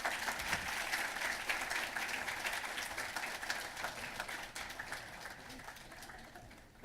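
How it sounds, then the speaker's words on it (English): Audience at a conversation event welcomes a former President of Tanzania to the podium with a round of applause, dense clapping that starts strong and slowly thins out over seven seconds. "Please, a big round of applause for him."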